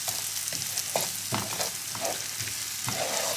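Onions caramelising in a pan sizzle steadily while a utensil stirs them in repeated scraping strokes, close and clear with no talking.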